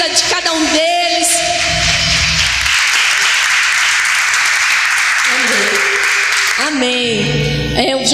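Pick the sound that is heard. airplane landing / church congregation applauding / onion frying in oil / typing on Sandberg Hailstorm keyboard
church congregation applauding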